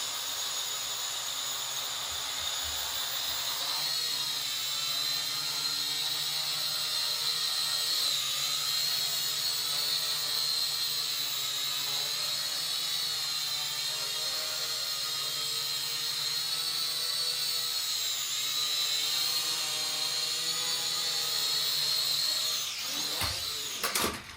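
A Syma X5C-1 remote-controlled quadcopter flies steadily nearby, its small rotors giving a continuous high-pitched whine that wavers slightly with throttle changes and ends abruptly at the close.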